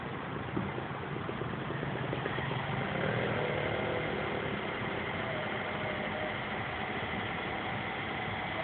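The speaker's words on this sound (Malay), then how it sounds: "Okay, kita kat rev engine lah." A 1997 Honda CR-V engine runs at raised revs after a decarbonising treatment, a steady, fairly faint drone with a slight swell partway through.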